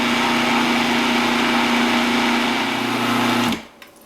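A food processor whirs steadily, churning cream into cultured butter, a loud, even motor drone that cuts off abruptly near the end, followed by a quiet clink.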